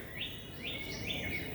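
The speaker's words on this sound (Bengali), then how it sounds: "পাখির আওয়াজ হচ্ছে" Several quick, upward-sweeping bird chirps follow one another in a loose series, soft and somewhat distant, with no voices present.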